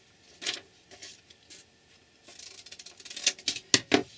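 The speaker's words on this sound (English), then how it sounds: "I will cut a piece off." Scissors cutting a piece of paper for a lapbook craft project, a few separate snips followed by a faster run of sharper crisp cuts, close and alone.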